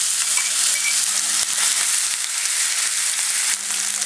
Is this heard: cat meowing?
no